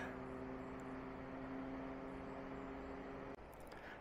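Steady broadband rumble of road traffic rising from a road below an Ötztal hiking trail, heard from a distance as a continuous wash with faint tonal hum, ending abruptly.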